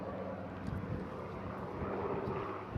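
A Spitfire, a Rolls-Royce-owned aircraft painted in number 16 Photographic Reconnaissance Squadron colours, flying at the Eastbourne International Airshow, with a steady, broad engine roar and wind rush heard continuously at a distance.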